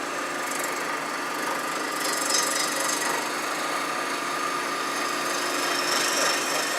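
A skew chisel makes planing cuts on a wood lathe, turning small pieces into cylinders for miniature Christmas trees; a steady, continuous hiss and whir of the spinning wood runs unbroken throughout at an even level.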